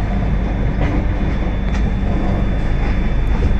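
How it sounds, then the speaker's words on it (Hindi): A MEMU train at Gondia railway station in India gives off a loud, steady mechanical rumble and hum that fills the platform without pause, with no voices. "ये सामने खड़ी है मेमो ट्रेन।"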